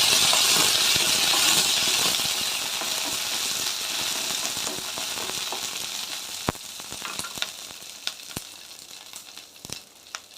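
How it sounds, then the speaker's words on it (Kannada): Green chillies sauté in hot oil for military-hotel-style donne biryani, a loud steady sizzle that slowly eases while sharp metallic clinks of stirring ring out repeatedly toward the end. "ಅದನ್ನು ಸ್ವಲ್ಪ ಎಣ್ಣೆಯಲ್ಲಿ ಬಾಡಿಸ್ಕೊಳ್ಳೋಣ"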